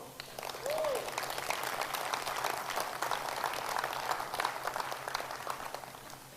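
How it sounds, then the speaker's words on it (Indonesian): Audience at a leadership training event clapping for an honoree, a steady, fairly distant wash of applause lasting several seconds, with a brief voice near the start. "Tepuk tangan untuk Pak Simon."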